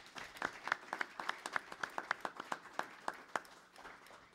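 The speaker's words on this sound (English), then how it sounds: "I think we should just give them a round of applause." A small audience at a community conversation gives a round of applause, fairly quiet and sparse, with distinct individual claps in an uneven rhythm that thin out toward the end.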